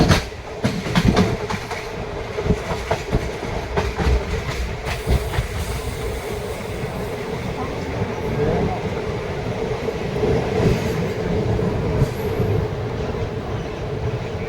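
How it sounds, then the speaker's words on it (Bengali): The Visakhapatnam–Bhubaneswar Intercity Express rolls into Vizianagaram station with a loud, close rumble and rhythmic clickety-clack of wheels over rail joints that continues steadily throughout. "ট্রেন এবার বিজয়নগরম স্টেশন এন্টার করছে।"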